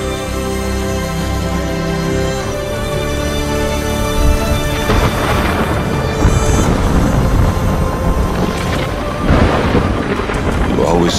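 Thunderstorm in the video game Horizon Forbidden West, with a steady wash of rain and rolling thunder that swells loudly partway through over a continuous layered game soundscape.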